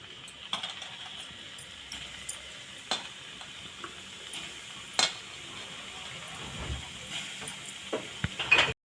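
Potato french fries frying in oil with a quiet, steady sizzle. Occasional sharp clinks and scrapes of utensils on the pan punctuate it, with a louder knock at the end.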